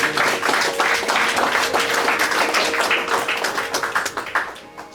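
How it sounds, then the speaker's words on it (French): A church congregation applauds during a French-language worship service: steady, loud, close clapping from many hands that carries on throughout and thins slightly at the end. "Est-ce que tu peux acclamer le Seigneur?"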